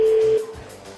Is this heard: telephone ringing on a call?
yes